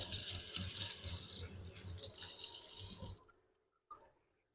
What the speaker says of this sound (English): Put that in there, rinse my hands.